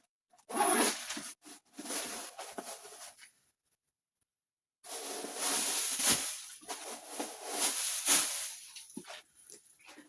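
Zipper on a soft pebble leather designer handbag being drawn open and closed in two bursts of close, raspy zipping separated by a brief silence.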